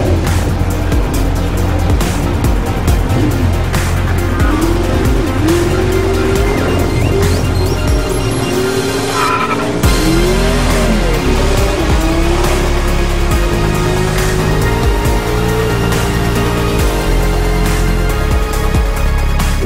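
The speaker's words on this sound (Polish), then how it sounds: "auto przyspiesza i czym szybciej jedziemy, tym ono bardziej przyspiesza" A race car runs at full power, its engine a loud, continuous roar that climbs in pitch, with bursts of tire squeal mixed in and no voices.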